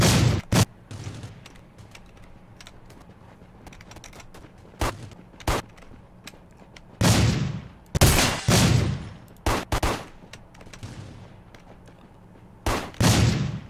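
Gunfire in Rules of Survival on PC in first-person mode: several sharp, loud bursts of shots at uneven intervals, with quieter game ambience between them.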